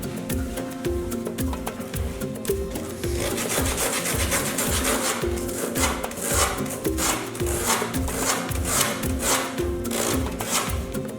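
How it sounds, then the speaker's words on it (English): A magnesium ribbon is rubbed clean for a school science practical, a close, rhythmic scraping with quick repeated back-and-forth strokes that continues steadily throughout. "So now I am rubbing the magnesium ribbon."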